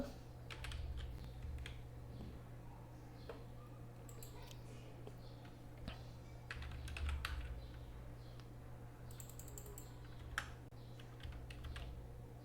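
Scattered bursts of clicking keystrokes on a computer keyboard as a search keyword is typed, close and quiet, with gaps between runs over a constant low electrical hum.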